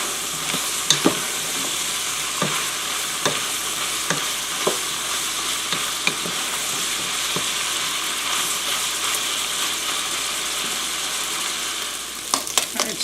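Unsmoked ham fries and caramelizes with maple syrup in a pan, giving a steady sizzle broken by scattered crackles and a few sharp utensil scrapes and clinks near the end.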